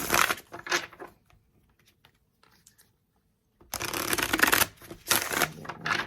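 Tarot cards are shuffled in two brisk riffling bursts close to the mic, separated by a few seconds of near silence.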